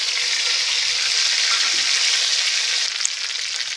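Dried red chillies and curry leaves sautéing in hot oil for sambar rice, giving a loud, steady, continuous sizzle that fills the whole stretch with no talking.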